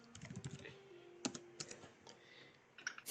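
Quick bursts of typing on a computer keyboard, scattered clicks and keystrokes heard close and fairly quiet, with no talking.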